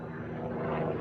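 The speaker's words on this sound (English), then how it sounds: "And a helicopter flies over." A helicopter passes overhead with a loud, continuous rotor and engine roar that swells slightly over one second, heard alone.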